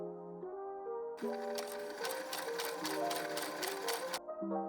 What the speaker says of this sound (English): Pin or baste by hand, then sew with a machine.